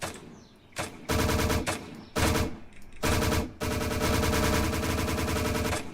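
Automatic weapons fire in GameGuru MAX, with loud, rapid bursts of gunfire broken by short pauses and then one long sustained burst near the listener.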